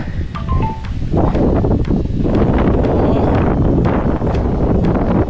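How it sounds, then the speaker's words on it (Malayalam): Strong gusts at a grassy mountain viewpoint in Pottanpadi near Kulamavu buffet the microphone with loud, continuous roaring wind and sharp intermittent thumps. "നല്ല കാറ്റുണ്ട് കേട്ടോ."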